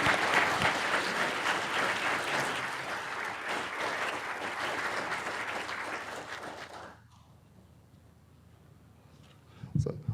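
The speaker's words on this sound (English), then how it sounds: "another round of applause for Ken James." Dense audience applause at a weekly meeting, steady clapping for about seven seconds before it cuts off into near silence, with a faint sound at the very end.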